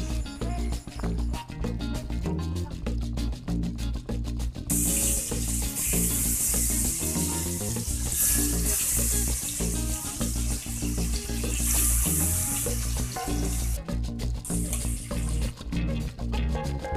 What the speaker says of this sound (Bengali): আমি কড়াইয়ের মধ্যে অল্প পরিমাণ তেল দিয়ে পনিরগুলো হালকা ভেজে নিচ্ছি